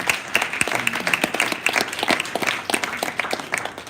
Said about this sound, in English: I think let's applaud our participants.